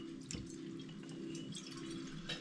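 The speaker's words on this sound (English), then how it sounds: "I'm just going to film the first demijohn emptying today" Homemade Vimto and hops cider at 7.9% ABV drains out of a glass demijohn, a faint, continuous trickle with scattered drips heard close up in a quiet room.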